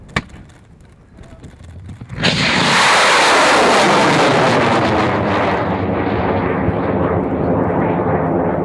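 A "P" motor amateur rocket ignites after a quiet moment, bursting into a loud, sustained roaring rush that holds for several seconds and fades slightly as it climbs away.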